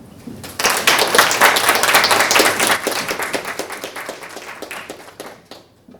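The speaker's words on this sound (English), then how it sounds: "Let's have a round of applause for him" A lecture-hall audience claps for a distinguished speaker at a university lecture series, the applause swelling quickly, holding full for a few seconds, then thinning out to scattered claps.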